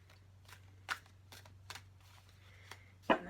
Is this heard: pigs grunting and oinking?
no